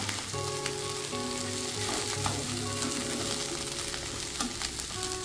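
Drumstick flowers frying in a pan, a dense, steady sizzle close by with faint stirring scrapes mixed in, alongside a soft sustained background hum.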